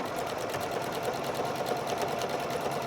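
A sewing machine runs a locking stitch to secure the bottom of a zipper on a bag, with a steady rapid mechanical chatter close up and no talk.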